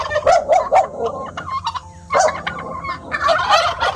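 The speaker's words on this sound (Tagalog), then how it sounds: "Nakakatuwa yung mga pabo." Turkeys gobble loudly and repeatedly nearby in rapid warbling bursts, with a dog barking briefly among them.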